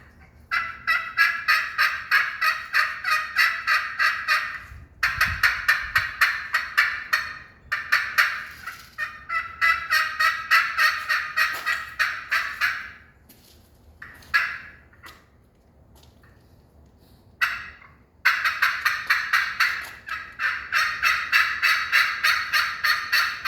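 A hand-operated turkey call mimics rapid, excited turkey yelping and gobbling in long rattling bursts, loud and close, repeated in several runs separated by short pauses.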